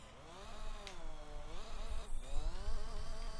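A race car engine in Gran Turismo 3 runs at full throttle as a loud, steady high-pitched whine that climbs and dips slightly with gear and speed changes.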